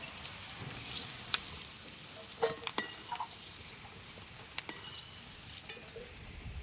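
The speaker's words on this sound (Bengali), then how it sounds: "এই সিমটা একটু লাল লাল করেই ভেজে নিতে হবে" Flat beans (shim) frying in a pan, a faint steady sizzle broken by scattered sharp crackles and pops as the pan is stirred.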